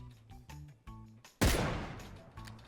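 Gunfire in the video game PUBG: one sharp, loud shot bursts out midway and rings off in a long echoing tail, after a stretch of quieter tonal game sounds.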